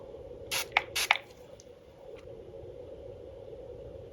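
Two quick hissing bursts from a makeup setting spray bottle, close by, followed by quiet background hum.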